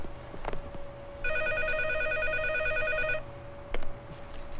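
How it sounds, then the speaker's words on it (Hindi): A telephone rings with a steady electronic trill for about two seconds, fairly loud and close, over quiet room noise. "ए सूरज भाई तेरा फोन है"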